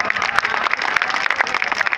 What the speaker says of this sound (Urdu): زور اور تالیاں بجا کر مجھے بتائیں